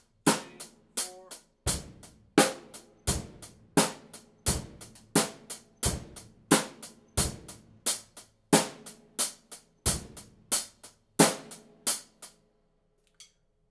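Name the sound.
drum set playing half-time beat, bass and snare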